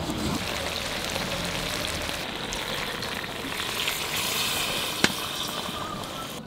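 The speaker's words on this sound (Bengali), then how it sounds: "যতক্ষণ না নিচে একটু পোড়া পোড়া লাগে ততক্ষণ আমি কষিয়ে যাই" Chicken sautéing in a pan until lightly browned, a dense continuous sizzle with faint stirring and one sharp click near the end.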